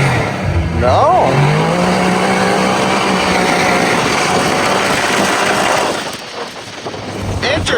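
A CFMOTO Z10 side-by-side revs hard as its tires spin in sand, a loud sustained engine roar with a rising whine that briefly dips near the end before surging again.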